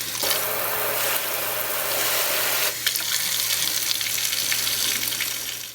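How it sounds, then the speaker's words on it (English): Water runs steadily from a Kohler Carmichael kitchen faucet into a sink after a repair, a continuous close hiss with a brief dip near three seconds before the flow resumes at full pressure. "here I am about to turn on the faucet and see what happens"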